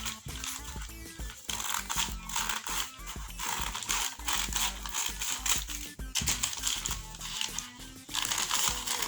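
Scissors cut through fabric for a flare skirt in a continuous run of close, loud crisp snips and rasping crunches. The blades chop in an uneven rhythm with only brief pauses.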